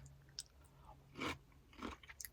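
Homemade quick pickles and onions being chewed up close, with two or three crunchy bites spaced apart and quiet pauses between them; nobody speaks.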